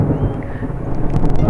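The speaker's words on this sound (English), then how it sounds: "You can hear the thunder" Thunder rumbles deep and steady through falling rain near a cottonwood tree, a loud low roll that continues the whole way with patter and faint crackles on top.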